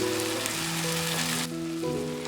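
Chicken curry sizzles loudly and steadily in a pan as crushed fried onions are added, a close, dense crackle with no talking.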